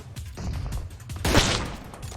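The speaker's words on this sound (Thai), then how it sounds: "ทำไมยิงตรงนู้น กระสุนมาถึงตรงเราวะเนี่ย" Gunfire in the PUBG Mobile battle game, a short loud volley of shots crackling over low background game noise.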